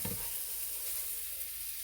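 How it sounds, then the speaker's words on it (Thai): Garlic stir-fries in a wok with a little oil, giving a steady, loud, close hiss and crackle that holds throughout and cuts off abruptly at the end. "หอมกลิ่นเทียมแล้วค่ะผัดใส่กับน้ำมันนิดเดียวก็หอมจริงนะคะ"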